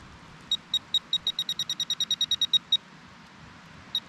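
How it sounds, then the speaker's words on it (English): A metal detector sweeps over scraped soil in an old shed at an iron furnace site, giving a quick run of about fourteen evenly spaced high beeps, then a pause and a single last beep. "what I am getting is the metal detector"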